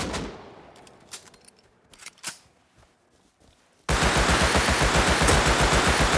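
Gunfire in the video game Rust on PS5 cracks out sporadically, then a sustained, loud automatic volley rattles continuously in a rapid, steady rhythm.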